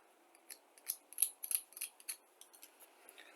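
Snips or scissors cut a plastic part from a 1973 Revell Monogram 1/32 Mack R-Model truck kit, making a quick run of crisp snipping clicks that cluster in the middle. The cuts are close and fairly quiet, and nobody talks.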